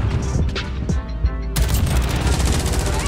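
Rapid bursts of Modern Warfare video game gunfire crack and boom in quick succession, loud and close, ending in a dense roar of shots.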